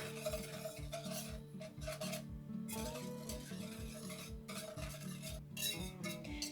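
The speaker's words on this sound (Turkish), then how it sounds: "Bütün malzemelerimizi tenceremizi ocağa almadan iyice karıştırıyoruz." Quiet, steady scraping and swishing of a utensil stirring milk and chocolate pudding mixture in a pot, with rhythmic repeated strokes and no talking.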